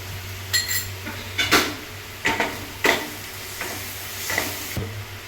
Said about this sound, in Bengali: এবার আমি পেস্ট করা যে অল্প জিরে ধনে আর লঙ্কা বেটে রেখেছিলাম সেই পেস্টটা দিচ্ছি